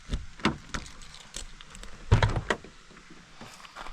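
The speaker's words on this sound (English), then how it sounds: "I'll just open the door." A motorhome door is opened with a series of close clicks, clunks and latch knocks, several sharp handling thumps spaced irregularly over a few seconds, with no talk.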